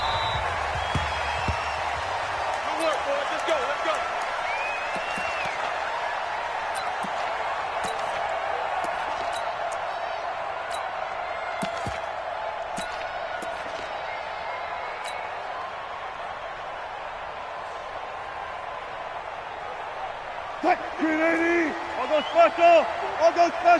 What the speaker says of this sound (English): This crowd is ready as their guys get set to match up between the Green Bay Packers and the Seattle Seahawks.